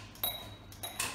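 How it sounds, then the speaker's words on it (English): Ice cubes dropped into a glass while preparing a Spanish-style gin and tonic with Bull Terrier gin, giving three quick, bright clinks and rattles close up with short pauses between them. "plenty of ice in our glass."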